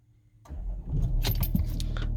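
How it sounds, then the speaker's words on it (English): A VW Touareg R with a Starline i96v2 immobiliser fitted starts up: after a near-silent moment, a steady engine rumble comes in and runs on, with metallic jingling like keys mixed in close by. "There you go, start the vehicle."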